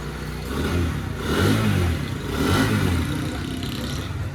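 A freshly tuned motorcycle engine is revved during a sound test, rising in two strong throttle swells over a steady idle, loud and close, with no speech.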